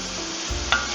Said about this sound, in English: So I've added in the onions and the red peppers, and now we're sauteing